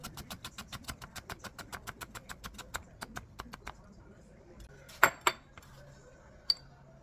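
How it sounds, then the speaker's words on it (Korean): A knife julienne-slices carrots on a cutting board in a home kitchen, with a rapid, evenly spaced run of crisp taps followed by a few louder clinks of the blade near the end. "이거는 송송송송송 채썰기"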